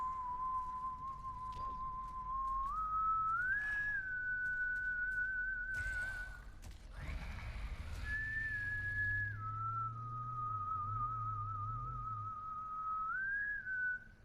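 A melodic human whistle from the video game Borderlands 3, a clear sustained tune that steps between pitches and holds long notes, briefly broken by a noisy rustle midway, then resuming alone.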